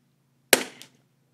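A single sharp gunshot in the video game Fish In A Barrel fires at fish, followed by a short decaying tail and a faint second impact, with silence on either side.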